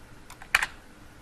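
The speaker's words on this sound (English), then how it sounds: "and then press enter on our keyboard" A single enter key pressed on a computer keyboard gives a quick pair of sharp clicks, close and moderately loud, after a couple of fainter key taps in a quiet room.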